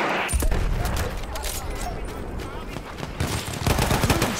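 Rapid MG15 machine gun fire in a World War I era video game battle, dense bursts of gunshots mixed with other battlefield firing, loud and continuous, with background voices shouting.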